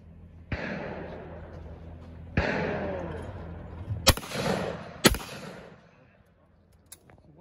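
Four loud, sharp shotgun shots are fired at sporting clays targets during a youth tournament outdoors. The shots are irregularly spaced, each ringing out with a short echo, and quiet voices can be heard between them.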